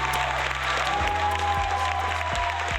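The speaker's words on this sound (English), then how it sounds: "Can we get a clap, everybody?" Applause from a group, steady and fairly loud for the whole stretch, with a low hum and tonal background underneath and no clear talk over it.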